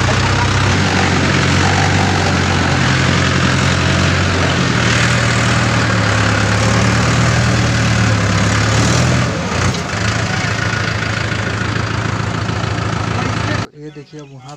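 Heavy tractor engines, a Mahindra 585 leading a chain of three tractors pulling a Sonalika 775 Sikander out of deep mud, roar in a loud, steady, close drone that stays level for most of the stretch before cutting off abruptly near the end.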